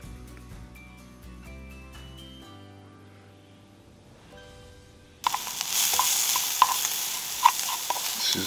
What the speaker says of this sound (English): Sizzling away there.